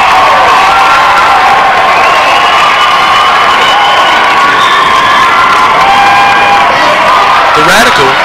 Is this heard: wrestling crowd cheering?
yes